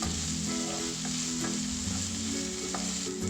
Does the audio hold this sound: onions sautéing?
yes